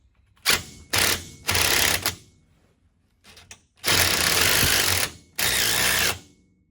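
A 3/8 impact wrench drives an Allen bolt on a Polaris RZR Pro R tie rod, firing in several short, harsh rattling bursts separated by pauses, loud and close.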